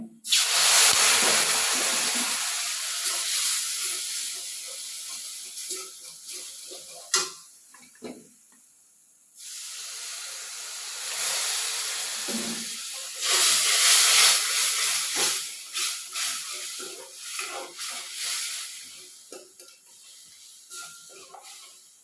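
Loud hissing sizzle as vinegar is poured into a hot pan with asafoetida and curry leaves, dying away to quiet bubbling as it boils, then swelling again with intermittent clicks.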